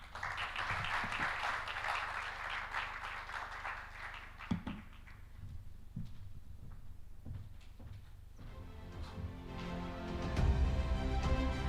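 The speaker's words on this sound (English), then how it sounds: "I think with that round of applause" Applause from the audience at an African financial markets forum, a dense burst of clapping for about four seconds that fades into sparse claps and quieter hall noise.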